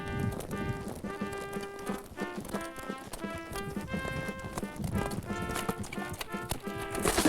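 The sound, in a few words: horse hooves clip-clopping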